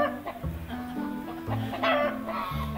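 Hens cluck repeatedly on a farm, with overlapping short calls from several birds close by and no talk.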